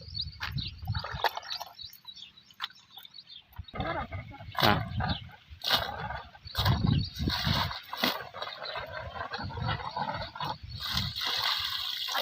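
Boiled peanuts are swished and sloshed in water, with irregular splashes and rattling bursts close by, broken by short pauses.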